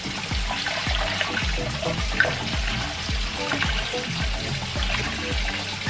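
Hot water pours into a pot of stuffed green peppers for a traditional Romanian dish: a continuous splashing gush with soft repeated low thuds underneath, close and fairly quiet, with no talk.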